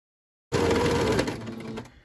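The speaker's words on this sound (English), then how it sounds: "you're going to complete your sewing till you get to the end" A sewing machine stitches a lined zipper pouch in one quick, steady whirring run that starts abruptly after silence and then trails off, with no talk.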